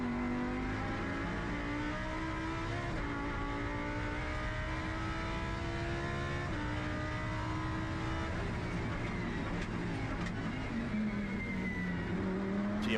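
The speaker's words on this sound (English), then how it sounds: "Let's just have a listen to this beautiful V10." Onboard a Lamborghini Super Trofeo race car at Adelaide, its V10 engine screaming loud and close, climbing through the revs with quick gear changes and dips between shifts, with no voices over it.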